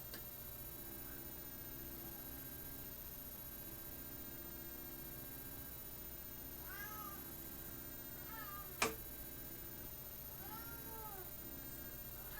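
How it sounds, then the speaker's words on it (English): A pet cat gives a few short, faint meows, spaced apart, over a steady electrical hum in a room with a pinball machine, and one sharp click cuts in partway through. "I got my cat here who loves to be the center of attention."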